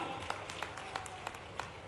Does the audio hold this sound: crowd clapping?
yes